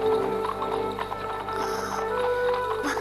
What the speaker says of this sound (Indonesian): aku mendengar suara kereta kuda memasuki gerbang kota